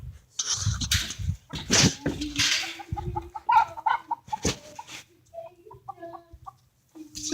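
Chickens in a backyard give short, repeated clucks and squawks at close range. The clucks come in bursts over scuffling and handling noise, with brief gaps between the calls.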